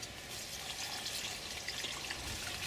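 Fermented comfrey tea pouring from a container into buckets of corn stalks, a quiet continuous splashing trickle with small fluctuations throughout.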